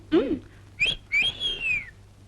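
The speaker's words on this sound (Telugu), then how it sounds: "మీకు విజిల్ వేయడం తెలుసా?" A man whistles in a few short bursts, then holds a long, clear, slightly falling tone, close and loud, in a film scene with a faint low hum underneath.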